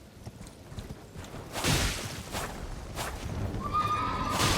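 A Knight's Cavalry horse in Elden Ring neighs and whinnies over galloping hoofbeats, the clip-clop rising and loudening toward the end, with a high shrill whinny near the close and no talk.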